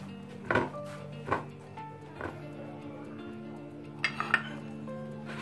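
Boiled potatoes go into a bowl in a home kitchen, making a few soft thuds and light clinks of utensils against the dish, spaced out over a quiet background.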